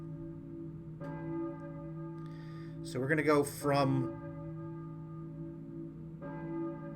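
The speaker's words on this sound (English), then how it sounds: "I hear a church bell, maybe?" A church bell rings in the Silent Hill video game, clear sustained tolls with long ringing decay, struck twice with someone briefly talking between the strikes.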